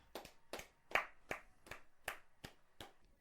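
Sparse, distinct hand claps sound at a steady rhythm, about eight in three seconds, fairly faint and close, rather than a large wrestling crowd cheering for The Undertaker.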